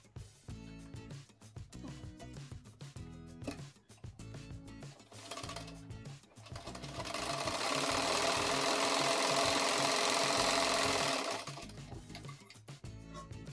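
Sewing machine stitching a piping strip onto a cloth baby diaper: irregular ticking bursts first, then a sustained run of fast, even stitching for several seconds before it slows to ticks again.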